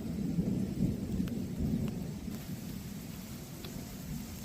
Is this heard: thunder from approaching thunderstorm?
yes